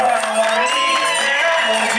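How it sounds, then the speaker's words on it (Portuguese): A birthday party crowd cheers, whoops and shouts loudly and continuously, a dense close wall of voices with some clapping mixed in, while music with a sung melody plays underneath. "Uma salva de palmas pra ele, galera."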